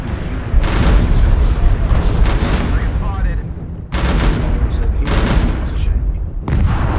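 An artillery strike in the MechWarrior Online video game, dense rolling barrages of explosive booms and crackling gunfire in loud overlapping bursts, with a brief lull before another heavy wave hits.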